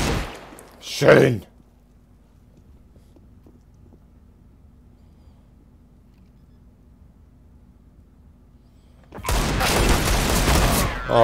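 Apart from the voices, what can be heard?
shotgun gunfire from a video game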